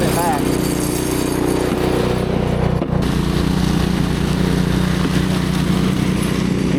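A Power Smart gas snowblower engine runs at a constant, loud mechanical drone close by, with a brief dip near the middle before it carries on steadily.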